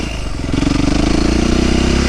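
A Yamaha YZ450F dirt bike engine, freshly rebuilt with Hotcams installed, running close by with a loud, pulsing four-stroke thump that rises in pitch as it is revved lightly.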